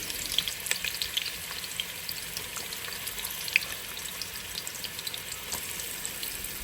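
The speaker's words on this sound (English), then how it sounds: "I love the smell of sauteed onion and the sizzling of the oil" Sliced onion sizzles steadily in hot oil over medium-high heat, a continuous crackling hiss with scattered sharper pops, close and fairly quiet, with no voices.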